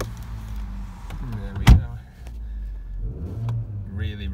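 Volkswagen Golf 1.2 TSI push-button start: a sharp starter burst, then the small petrol engine settles into a steady close idle as a voice talks over it.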